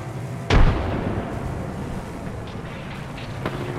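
A frag grenade detonates in the Apex Legends video game with a single sharp, heavy blast, followed by a lingering rumble and scattered gunfire beneath steady game ambience.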